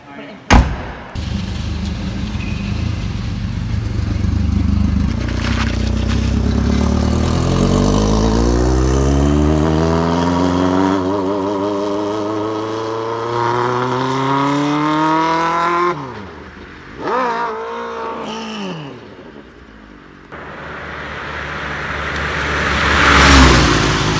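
Josh's car on a test drive launches hard, its engine revving up through a long rising sweep, easing off, then climbing again, loud and close throughout.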